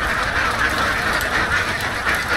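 Many ducks quack together on a modern duck farm in Poblacion, Hagonoy, Davao del Sur, forming a steady, dense chorus that stays loud and continuous throughout.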